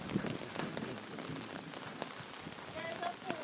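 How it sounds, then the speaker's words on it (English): Rain falls outdoors in Hanover, Jamaica, as a steady, even patter and hiss across the whole moment. Faint voices sit beneath the rain. "It's raining."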